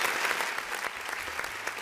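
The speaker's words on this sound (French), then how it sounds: "On applaudit pour Debardo, s'il vous plaît." Studio audience applause on a French-language television show, a dense steady clapping that fills the whole stretch at close, loud level with no speech over it.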